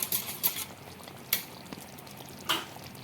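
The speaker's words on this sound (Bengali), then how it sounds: "এখন ফেটিয়ে রাখা টক দইটা অ্যাড করে দেব" Whisked sour yogurt poured into a pan of cooked pointed gourd gives a faint, soft sizzle and bubbling, with a few light clinks of a spoon against the pan.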